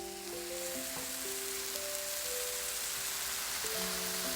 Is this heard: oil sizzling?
yes